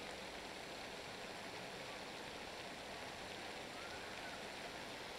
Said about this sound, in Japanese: 水しぶきの音が